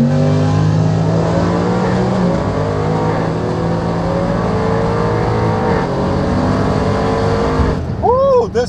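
750-horsepower 2018 Audi RS7 launching on a dragstrip: a loud, close engine drone climbing steadily in pitch through the gears, then a sharp rev spike and shift near the end.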